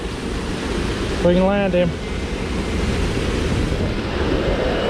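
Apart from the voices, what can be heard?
waterfall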